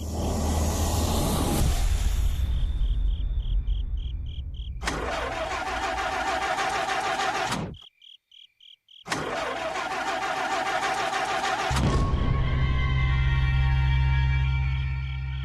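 A car's starter cranks repeatedly in two long grinding bursts, with a pause and a few clicks between them, but the engine never catches. The sound is loud and close, with no talking.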